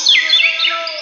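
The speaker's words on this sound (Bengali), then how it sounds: "পাখিগুলো উড়ে গেল" A bright, loud burst of bird chirping, a quick series of high, warbling tweets lasting about a second, heard close and alone during a devotional kirtan performance.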